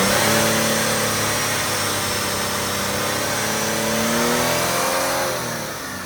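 A 1995 Mitsubishi 3000GT SL Spyder engine, suspected of a head gasket fault, revs up close and loud, holding a steady drone with pitch rising and falling before easing off near the end, with no talk.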